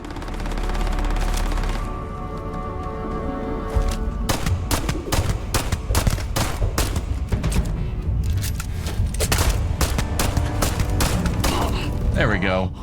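Gunfire from shorter range weapons in the Starfield video game, with rapid bursts and single shots crackling in dense clusters, loud and close, under intermittent talk from a player.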